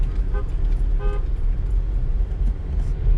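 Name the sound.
car being parked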